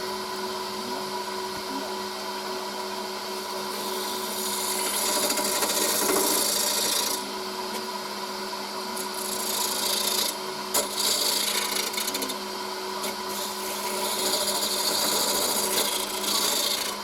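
A bowl gouge scrapes through pull cuts on spalted hazel spinning on a lathe, a continuous loud rasping hiss that swells and eases as the tool moves along the wood, with a steady motor hum beneath.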